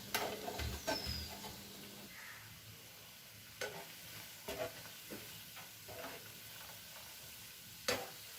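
Chicken pieces for restaurant-style chili chicken frying in a pan on low heat, giving a quiet steady sizzle with scattered pops and a few sharp clicks of turning pieces, no voices.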